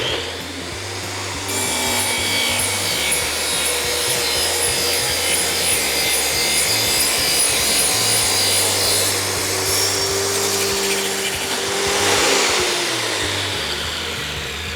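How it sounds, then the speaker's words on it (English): A power saw from the iQTS244 tile saw setup cuts through plastic louvers, a steady grinding, rubbing drone that starts after a second and a half and runs continuously, swelling near the end, with no talk. "We're going to go through and do our first cuts on the plastic louvers. Engage your machine, turn it on."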